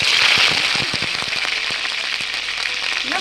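Bay leaf, split dried red chillies and panch phoron spluttering in hot oil in a kadai, a close, loud crackle of rapid pops that eases into a steady sizzle.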